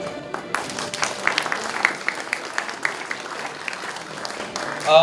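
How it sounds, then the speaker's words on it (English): An audience at a university Indonesia cultural event claps for the performers, a moderate, steady patter of many hands that swells slightly toward the end. "So please give them a big round of applause."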